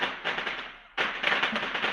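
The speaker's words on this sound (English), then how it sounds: "Sorry for the fireworks." Neighborhood fireworks set off by kids during Eid celebrations, a rapid string of crackling pops that fades, pauses briefly, then bursts back into dense crackling, heard from a distance.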